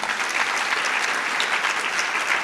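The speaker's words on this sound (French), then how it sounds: "On peut également vous applaudir." Sustained audience applause fills a thesis prize award ceremony held by INJEP in 2023: dense, even clapping from a seated crowd, steady and moderately loud throughout with no voices on top.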